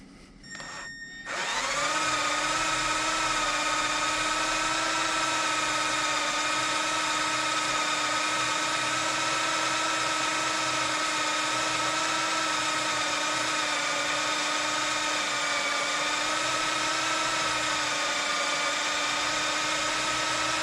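A power drill bores through a seized exhaust stud on an engine, starting after a brief click and then whining steadily and loudly at an even pitch for the rest of the clip, with no talk.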